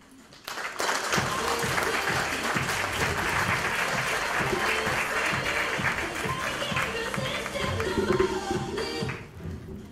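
An audience at a live community event applauds to welcome a speaker with loud, dense clapping that starts abruptly and carries on steadily for several seconds before tapering off.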